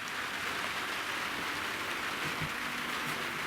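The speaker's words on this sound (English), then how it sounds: "If it really starts pissing rain, we'll find out really quick." Rain starts falling at an off-grid tiny house, a steady, dense hiss of drops on surfaces close by that holds evenly throughout, with no voices.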